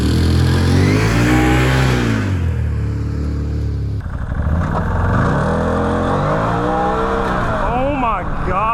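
A 2013 Can-Am Maverick side-by-side UTV accelerates from a stop, its small engine revving hard and climbing in pitch, loud and close, with a second surge of revving after a brief dip.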